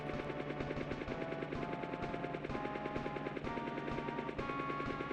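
A helicopter in the SNES game Pilotwings whirs with a rapid, steady rotor chop and a buzzy synthesized engine tone, continuous and fairly loud with no voices.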